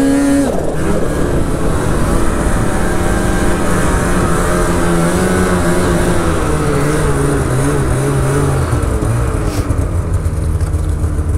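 A snowmobile engine revs on the throttle, a loud, steady, close motor drone with pitch rising and falling as it pulls, and no talk over it.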